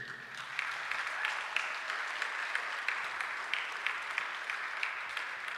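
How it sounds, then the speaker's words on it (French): A seated audience at a community stage event in Toulouse claps steadily for a performing duo, a moderately distant, even patter of many hands that holds throughout without pause. "Je vous invite à les applaudir, s'il vous plaît."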